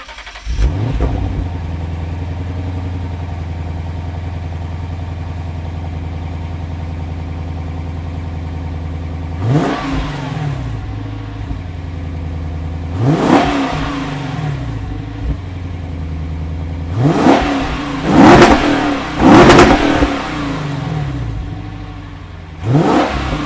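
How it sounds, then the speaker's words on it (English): The V8 engine of a 2020 Lexus RC F Track Edition idles with a deep, steady burble, then revs sharply several times, the exhaust barking up and settling back between bursts. "let's get some exhaust clips because these Lexus V8s are nasty"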